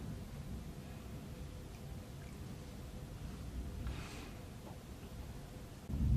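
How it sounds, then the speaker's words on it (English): Low, rumbling thunder rolls through a heavy storm, a faint, distant and continuous murmur that swells near the end. "So if you can hear that thunder, I'm sorry."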